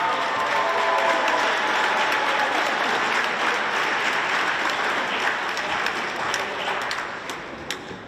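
Sustained applause fills a basketball gym for senior cheerleaders and basketball players, a dense, even crowd clapping that tapers off near the end.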